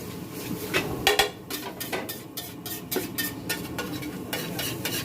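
A spoon stirs food in a pan, making a quiet series of irregular scrapes and metallic clicks that bunch together near the start and then carry on sparsely.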